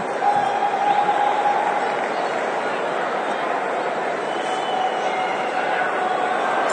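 Football stadium crowd during a Chelsea versus Udinese match reacts to a risky pass with a sustained, loud roar of murmuring and groaning voices, steady throughout with no single voice standing out.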